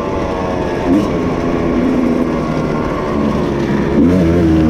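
A hard enduro dirt bike's engine runs steady and loud up close while riding along a Mississippi river bluff, with pitch rising briefly as the throttle opens.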